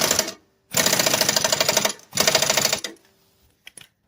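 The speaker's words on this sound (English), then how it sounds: "That way I don't cross the threads before putting the air wrench on it." An air wrench tightens the blade bolt on a Craftsman push mower in two loud rattling bursts, each lasting about a second, with a short pause between them and a couple of faint clicks afterward.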